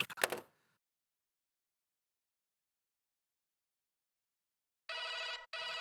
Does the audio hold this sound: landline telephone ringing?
yes